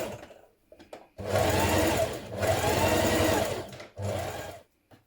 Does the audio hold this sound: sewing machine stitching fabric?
yes